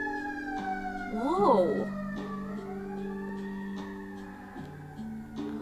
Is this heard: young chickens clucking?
no